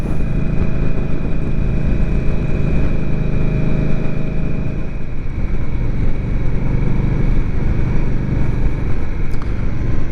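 Indian Scout Rogue Sixty cruiser motorcycle engine while riding on a cool spring day in Atlanta, a loud continuous rumble with wind noise and a steady high tone, no talking.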